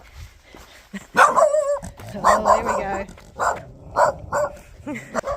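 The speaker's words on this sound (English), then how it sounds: "Oh, that's a dog." A dog on a village trail in South Korea barks and yips in several sharp bursts close by, mixed with growly, whimpering sounds, while a person speaks briefly.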